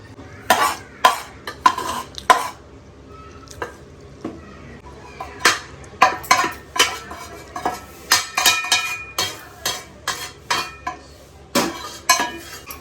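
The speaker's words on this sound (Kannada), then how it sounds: "ಇದಕ್ಕೆ ಹಿಟ್ಟು ಕಲಿಸ್ತಾ ಇದ್ದೀನಿ." Dough of ground roasted jackfruit seeds for crisp nippattu is mixed by hand in a metal vessel, with irregular clattering knocks and scraping against the pot repeating throughout, close and fairly loud, without talk.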